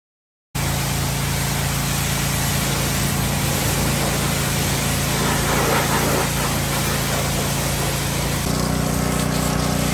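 A truck engine droning steadily while driving, hauling a load of corn, heard from inside the cab after a brief silent start, loud and continuous with a shift in tone near the end, no talk.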